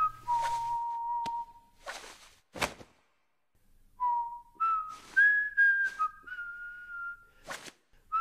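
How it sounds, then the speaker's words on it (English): Melodic whistling at the opening of a Sonic the Hedgehog video, several sustained tonal phrases separated by brief sharp clicks and a short pause, fairly close and clear. "The video started out with whistling and the flicking of a ring."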